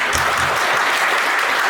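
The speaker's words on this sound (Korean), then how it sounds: "내가 박수를 한번 주세요." Wedding guests at a church ceremony clap together in steady, dense applause, loud and continuous, with a few low voices in the opening moments.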